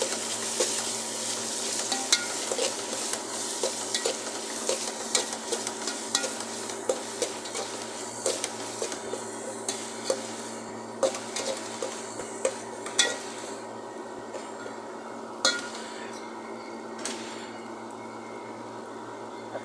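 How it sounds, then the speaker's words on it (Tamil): Vegetables being stirred with chilli powder, pepper powder and turmeric in a frying pan for a Tamil vegetable kuzhambu, with steady sizzling and sharp repeated clinks of the spoon against the pan, close and uninterrupted. "மிளகுத்தூளும் மிளகாத்தூளும் மஞ்சள் பொடி போட்டுக்கலாம் போட்டு கொஞ்சம் கிண்டி விட்டுக்கலாம்"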